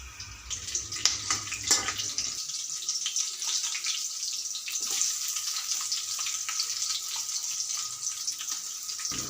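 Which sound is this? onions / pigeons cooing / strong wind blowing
onions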